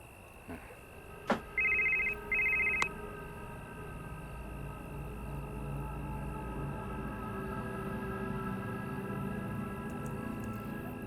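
A phone rings in a quiet room in a Hindi-dubbed drama, two short electronic trill bursts back to back, fairly clear over a low steady background hum.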